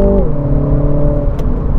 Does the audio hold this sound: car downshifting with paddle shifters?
yes